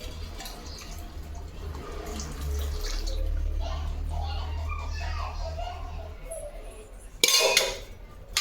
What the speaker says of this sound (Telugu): ఇప్పుడు ఈ వాటర్ వేసుకుందాం.